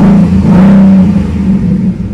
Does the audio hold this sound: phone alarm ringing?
no